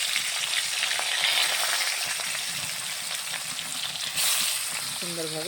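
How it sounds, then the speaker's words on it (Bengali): Pieces of snakehead fish fry in hot oil in a home kitchen, with a dense, continuous sizzle and crackle held close and loud throughout, and a brief tonal sound near the end. "তেলটা সুন্দরভাবে গরম হয়ে গেছে, আমি এখন মাছ দিয়ে দেব।"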